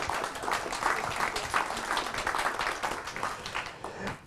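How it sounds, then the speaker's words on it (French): An audience at a debate evening on think tanks and political parties claps in a lively burst of individual hand claps that builds, holds, then tapers off near the end. "Vous applaudissez Marie Viseau, s'il vous plaît."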